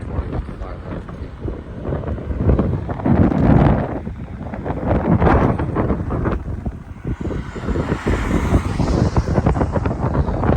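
Steady roaring wind buffets the microphone during a motorcycle ride around Hawaii's Big Island, a loud continuous broadband rush with gusty swells throughout and no talk.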